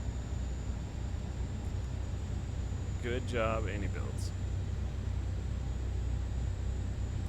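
Airbus A400M engines running in Microsoft Flight Simulator 2024, a steady low droning hum with a faint high whine across the whole stretch; someone speaks briefly partway through.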